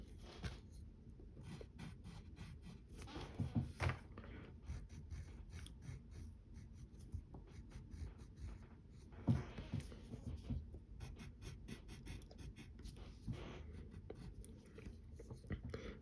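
Pencil strokes scratching across paper while a Robin figure from the DC Universe is sketched, steady close scratchy rasps in repeated short bursts with a few sharper marks, fairly quiet and with no talking.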